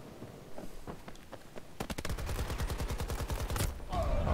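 Machine gun fire in the video game Battlefield 2042: a loud, rapid burst of automatic shots in an even rhythm, starting after a few scattered earlier shots and running steadily to the end.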